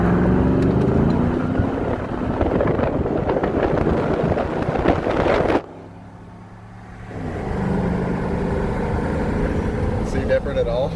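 A 2017 Chevy Silverado with a 5.3 V8 and cold air intake accelerating under load, a loud growling engine roar from inside the cab that briefly drops off before building again, with people talking over it.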